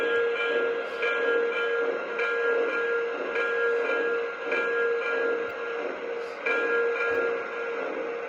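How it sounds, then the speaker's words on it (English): Steady rhythmic ringing of a Lionel 3005 L3A Mohawk model locomotive's bell, repeating about once per second over a constant mechanical hum, close and fairly loud. "Here's the bell."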